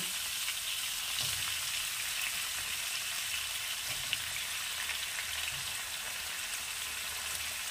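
Bottle gourd and other vegetables sautéing in a pan: a dense, steady crackling sizzle like light rain, close and unbroken, with a few soft stirring bumps and no speech.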